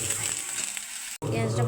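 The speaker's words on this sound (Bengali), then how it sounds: "এখানে কড়াইতে পেঁয়াজ বাটা দিয়ে দিয়েছি" Onion paste frying in a wok, a steady bright sizzle that cuts out for an instant near the end before resuming, with faint stirring crackle.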